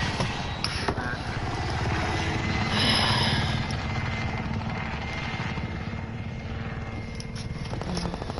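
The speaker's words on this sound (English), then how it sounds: "Chopper's down." A helicopter in a video game runs steadily and loudly through the whole stretch, its rotor chop a dense rhythmic pulse close by, with faint game noises mixed in.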